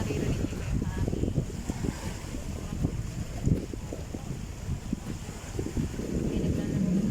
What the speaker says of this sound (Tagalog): Sobrang lakas ng hangin dito guys. Naririnig niyo ba yung hangin?